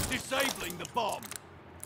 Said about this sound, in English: Disabling the bomb.